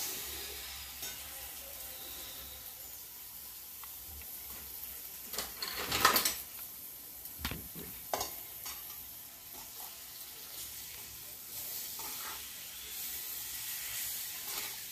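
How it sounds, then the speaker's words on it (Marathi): Vegetables are stirred and mixed in a frying pan over a quiet, steady sizzle. Scattered spoon scrapes and clatters come through, with a brief louder burst of hissing and clanking near the middle. "आता छान मिक्स करून घ्यायचं आहे."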